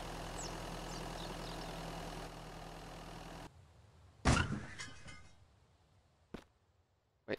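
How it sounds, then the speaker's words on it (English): A vehicle engine idles in the survival game Mist Survival, a steady low rumble for a few seconds that cuts off abruptly, followed by a sharp clunk, a few rattles and scattered knocks in near silence. "I can't because the fucking engine's running."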